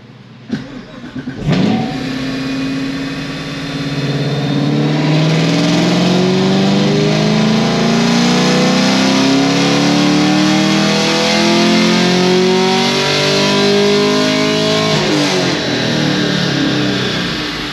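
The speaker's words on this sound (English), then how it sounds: "Okay, let's see what we got." A tuned car with bolt-on modifications makes a full dyno pull: the engine fires, then revs steadily upward for about thirteen seconds, loud and continuous, with harmonics climbing before it drops off near the end.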